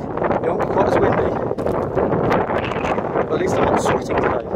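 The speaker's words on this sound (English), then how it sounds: "hopefully it won't be quite as windy." Strong, steady wind buffets the microphone on the West Highland Way between Kinlochleven and Fort William, a continuous loud roar with gusty surges and brief dips throughout.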